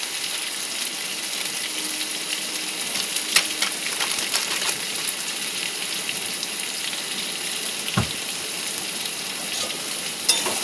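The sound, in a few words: potatoes frying in a pan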